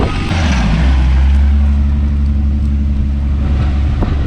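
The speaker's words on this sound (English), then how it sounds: "We're gonna let it idle and make sure it's good." A Mk4 Volkswagen Golf R32 engine idles nearby in an open lot with a steady, deep hum, loud and even, with some wind rumble mixed in and no speech.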